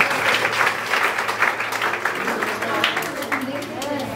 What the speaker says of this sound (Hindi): तो नए वाले के लिए एक बार बोलता ताली होनी चाहिए।